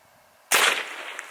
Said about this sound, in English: let's try and see just how effective one of these super hot CCI Stinger rounds are by shooting a soda can